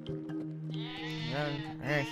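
A sheep bleats in an animated children's cartoon dubbed in Portuguese, a wavering, close cry rising and falling twice over a low steady musical hum.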